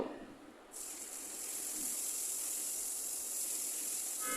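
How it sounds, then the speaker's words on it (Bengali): Chopped onions hit hot oil in a frying pan for a Bengali katla fish curry, setting off a sudden loud, steady sizzle that carries on close up after a short quiet start. "এবার সেই ফ্রাই প্যানে পেঁয়াজ কুচিগুলো দিয়ে দিব"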